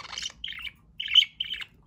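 Pet budgies chirping indoors in short bright bursts, four quick twittering phrases separated by brief pauses, close and clear with no talk.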